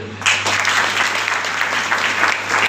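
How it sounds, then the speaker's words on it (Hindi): A church congregation claps together in steady, dense applause that fills the room from start to finish, with a few voices faintly underneath. "ताली बजा।"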